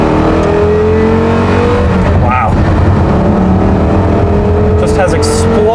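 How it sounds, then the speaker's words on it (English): A Porsche Carrera GT supercar's engine roars loud and close, droning and revving as the car accelerates through gear changes, with people talking excitedly over the engine noise. "You can hear everything that goes on in the engine, you hear the gear changes, you hear the tires on the pavement"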